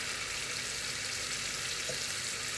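Cauliflower and potatoes frying in a pan, a dense, steady sizzle that stays close and even throughout with no pauses.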